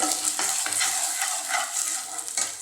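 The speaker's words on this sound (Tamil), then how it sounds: "நல்லா இதை வதக்கி விட்டுக்கலாம்" A spoon repeatedly scrapes and stirs food sautéing in a hot pan, giving quick rhythmic strokes over a steady, close sizzle.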